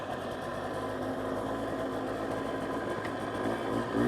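A 1985 Polaris Trailboss 250 ATV, old and rough but running, idles steadily with a low, even engine drone throughout, fairly quiet and unbroken, with no talk.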